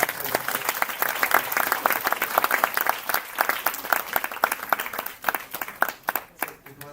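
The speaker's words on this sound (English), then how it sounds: "And a big round of applause for Virat sir." An audience at a college tech talk applauds steadily with dense, sustained clapping that thins out toward the end.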